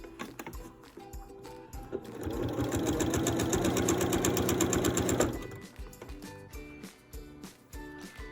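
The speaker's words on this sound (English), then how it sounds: "I'm gonna sew the binding to the quilt" Sewing machine stitching binding onto a quilt, a fast rhythmic chatter that starts after quiet handling sounds, runs steadily for about three seconds and then stops.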